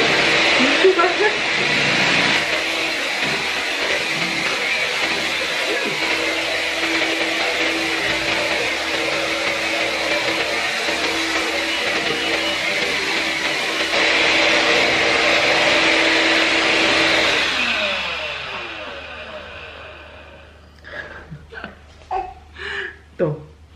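A household vacuum cleaner, used at home to calm a fussing baby, roars close and steady for most of the stretch, then winds down and falls quiet. Light voices and chuckling follow.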